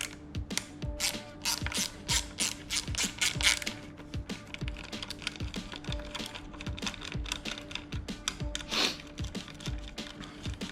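A ratchet wrench loosens 5 mm bolts on a bike fork, giving rapid, close clicking bursts in a repeated rhythm with brief pauses between strokes.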